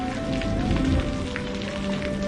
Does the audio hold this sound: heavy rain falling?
yes